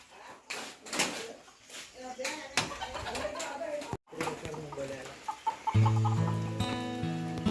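Nearby roosters cluck in short bursts while people talk over them in Dhamani village, Sangameshwar, during the rainy season. Near the end a steady tonal hum rises.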